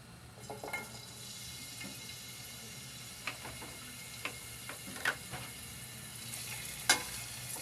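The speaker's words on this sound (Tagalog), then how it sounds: "Gisa lang yung mga pampabango natin." Pork and aromatics sauté in a little oil for sinigang, a low steady sizzle with scattered stirring scrapes and light clinks of a utensil against the pan, close and without talk.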